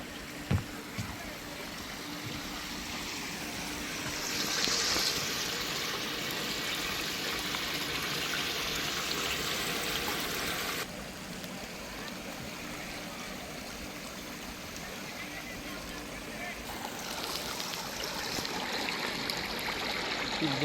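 Garden stream babbling and splashing in the Singapore Chinese Garden, a soft, steady rush of water that swells briefly in places and runs through the whole stretch.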